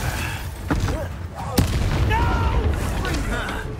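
Confringo fiery blast spell cast in Hogwarts Legacy, a sharp explosive crack around the middle set among other booming combat impacts, with a voice talking over the battle noise.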